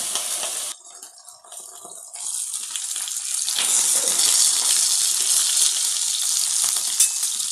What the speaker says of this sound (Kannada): ಸ್ವಲ್ಪ ಎಣ್ಣೆ ಹಾಕಿ ಅದರ ಮೇಲ್ಗಡೆ ಫಿಶ್ ಚೆನ್ನಾಗಿ ಬೇಯಬೇಕಲ್ವ